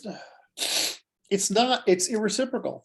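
A single sharp sneeze bursts out, with an inhaled gasp just before it, followed immediately by a person speaking.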